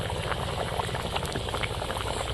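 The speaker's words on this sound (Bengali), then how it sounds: "তরকারিটা ফুটে উঠেছে, এবার ভেজে রাখা ডিমগুলো দিয়ে দেবো।" A Kadaknath chicken egg curry with new potatoes bubbles at a steady boil in a pot, a dense, even burble of popping bubbles heard up close without voices.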